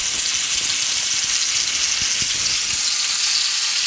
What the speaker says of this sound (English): you can hear it as the meat goes in